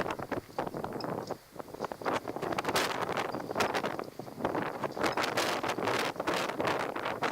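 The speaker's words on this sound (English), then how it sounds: "Very windy day." Strong gusting wind roars and buffets the microphone continuously, with crackling bursts as gusts hit; no voices.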